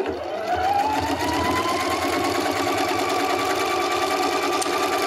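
A Husqvarna Viking Epic 95Q sewing machine stitching fabric, starting with a rising whir and settling into a steady rapid hum of needle strokes, close and continuous.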